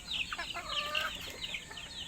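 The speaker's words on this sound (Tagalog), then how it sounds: "Magpapakain na naman tayo ng, ng ating mga alagang manok sa umaga." Pet chickens and chicks cluck and peep at feeding time, a busy overlapping chorus of short high calls heard up close.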